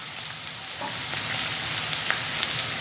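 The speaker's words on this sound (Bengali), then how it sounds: "ডুমুর আর আলুটা ভাজা ভাজা হয়েছে" Figs and potatoes fry in a pan with a steady close sizzle and crackle, oil hissing evenly with a few small pops and faint stirring, no voices.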